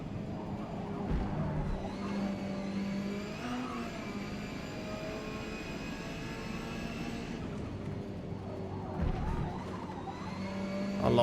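Peugeot 308 race car engine in Forza Motorsport, a steady sustained drone with shifting pitch as the throttle is feathered mid-race, loud and continuous with no talk over it.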